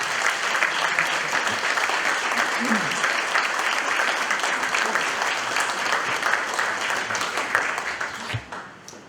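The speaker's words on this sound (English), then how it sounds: "Please give our veterans a round of applause." Sustained applause from a large crowd honoring veterans at an awards event fills the space, steady and dense throughout, tapering slightly at the very end.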